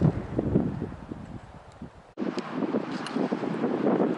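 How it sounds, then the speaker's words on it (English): Strong wind gusting across a microphone on a high mountain trail in Santa Fe National Forest, a loud continuous buffeting roar with a brief drop to near silence midway before the blustering resumes. "There's a lot of wind here."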